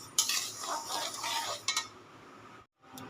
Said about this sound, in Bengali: সর্ষেটা একটু গরম করে নিচ্ছি জাস্ট কাঁচা ভাবটা দূর করছি